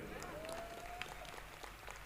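Audience applause at a mushaira poetry gathering in Kamthi, Nagpur, a steady wash of clapping from a large crowd that holds evenly loud for the whole moment, with a faint tonal whistle running through the middle.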